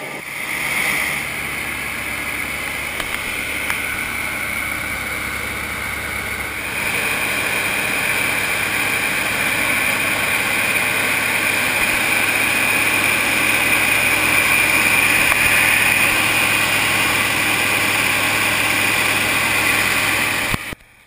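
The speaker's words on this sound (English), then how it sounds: "It's powered by a 325 horsepower turbocharged diesel engine" A steady, loud 325-horsepower turbocharged diesel engine drone runs throughout, powering a four-gun hydro blaster, with a broad hissing roar on top, getting a little louder partway through and continuing without a break.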